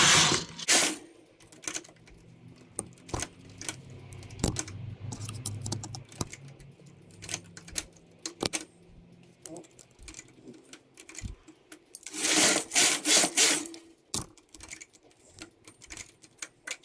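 A machine-knitting carriage clatters back and forth across the needle bed in bursts of rapid mechanical clicking and rattling, with louder sweeping passes between quieter gaps.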